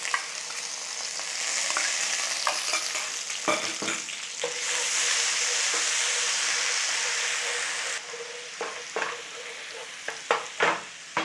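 Garlic ginger paste frying with whole spices in a hot pan for a Punjabi chicken masala curry, a steady close hiss of sizzling broken by the scrape and clatter of stirring, with no voices.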